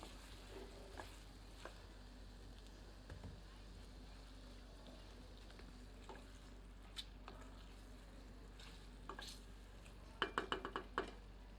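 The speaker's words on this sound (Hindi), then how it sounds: "एक बार अच्छे से करछी चलाते हैं।" A ladle stirs mutton curry in a pot, giving a quiet, low sizzle with soft scraping strokes, then a quick cluster of metallic clinks against the pot near the end.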